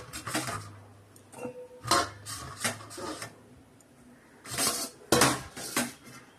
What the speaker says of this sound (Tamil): அது பொரிச்சு எடுக்கிறதுக்கு எல்லாத்தையும் மிக்ஸ் பண்ணிக்கலாம்